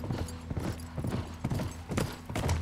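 Horse hooves clip-clop in a galloping rhythm in The Last of Us, a fast repeated pattern of close thuds over a low steady background hum, with no voices.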